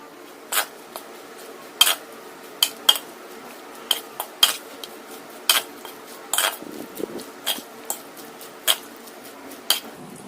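Chicken is mixed with lemon juice and curry leaves for a pakoda marinade, making a quiet, regular series of crisp metallic clinks, a spoon against a bowl, spaced about every half second to second.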